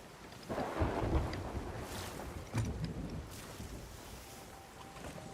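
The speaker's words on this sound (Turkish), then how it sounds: "Şu an fırtınadan kurtulduk herhalde." Rumbling thunderstorm heard from aboard a boat at sea, with a steady roar of wind and water broken by two louder low booms of thunder.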